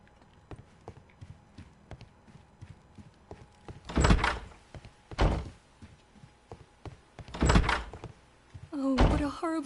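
A door opening in the Sherlock Holmes: Crimes & Punishments video game, heard as a few heavy wooden thuds and creaks over soft footsteps, with a brief voice near the end.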